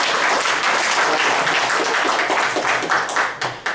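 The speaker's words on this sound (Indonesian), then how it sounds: "Oke, kasih tepuk tangan ya untuk Pak Franky." Dense, loud applause from an audience for a speaker at a canvassing techniques session, sustained throughout, with a few distinct claps as it begins to taper toward the end.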